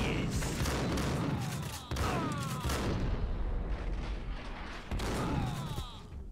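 Gunfire in the Max Payne video game, with dense, heavy blasts and booming shots in rapid bursts across a loud, cluttered mix and brief gaps between volleys.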